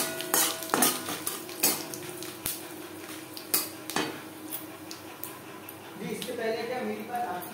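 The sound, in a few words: frying and stirring bay leaf and panch phoron spices in a pan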